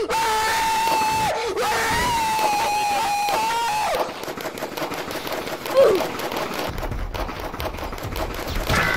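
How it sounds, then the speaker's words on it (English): Gunfire in the video game Sub Rosa: rapid crackling shots in clusters, mostly in the second half, mixed with shouting voices and a sustained tone early on, moderately loud. "Oh shoot, I'm getting shot at."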